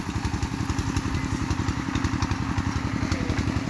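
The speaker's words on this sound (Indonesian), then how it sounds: "suara orang ngebor itu berisik sekali di sini" Construction workers drill for a house foundation, a loud, rapid rhythmic thumping and rattling engine-like drone that stays close and steady throughout, with no voices.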